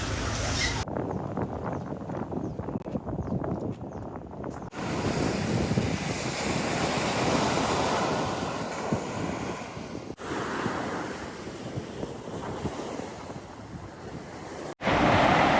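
Waves and strong wind at a beach in Jomtien, Thailand: a continuous roar of surf with heavy wind buffeting the microphone, loud and close throughout, with a couple of abrupt cut-outs.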